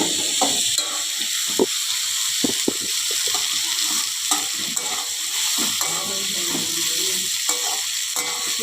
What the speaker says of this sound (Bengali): আলুটা ভেজে নিয়ে উচ্ছেটা না দিলে ঠিক মতন ভাজাটা হয় না